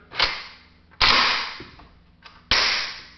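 An AK-47 rifle being function tested with an empty chamber produces four sharp metallic snaps, spaced unevenly, each clack ringing briefly before the next, close and loud.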